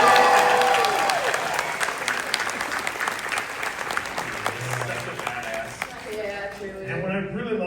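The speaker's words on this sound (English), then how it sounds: "can we have a Rose McGowan applause for her?" Audience at a horror fan convention cast panel claps in a loud, dense burst that gradually thins out toward the end, with voices talking over the later part.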